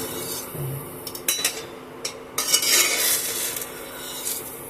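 A breakfast snack frying in a pan while being flipped, with metal utensil scrapes and clinks over a soft sizzle and a few louder bursts of crackling, close and without speech.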